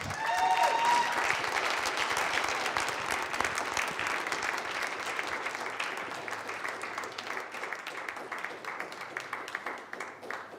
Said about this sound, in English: So if you could please, with a round of applause, bring up Reverend Kelly Billings.